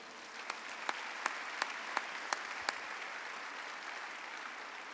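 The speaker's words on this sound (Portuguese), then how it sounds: "Quem recebe isso, dá um aplauso ao Senhor." A handful of sharp claps ring out at a steady pace during a Sunday church service, then stop, leaving faint room noise.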